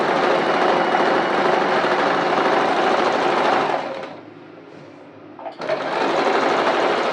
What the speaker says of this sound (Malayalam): മടക്ക് ഭാഗത്തോട് ഒരു സ്റ്റിച്ച് കൊടുത്ത് മുകളിലേക്ക് പോകും.